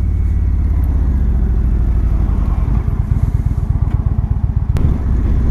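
A matte black 2017 Indian Chieftain Dark Horse motorcycle engine runs steadily and loud and close, its low idle thrum breaking into a quicker pulsing beat midway before settling again.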